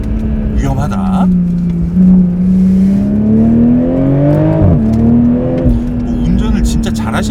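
A BMW Z4 M40i roadster driving with the top down in winter, its exhaust a steady droning tone that rises and dips with throttle, heard under a person talking.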